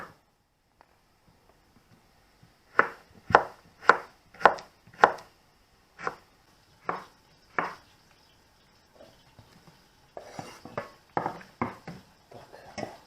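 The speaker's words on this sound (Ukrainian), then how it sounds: "Буду нарізати бурячок наш червоний" Knife chopping red beetroot into strips on a board for borscht, a run of steady, evenly spaced strokes, then a faster, busier burst of cutting near the end; no talking.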